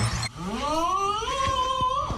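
A cat fitted with a post-surgery cone collar lets out a long, rising and falling yowling meow, close and fairly loud over faint background noise.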